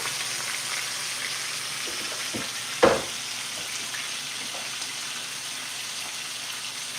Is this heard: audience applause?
no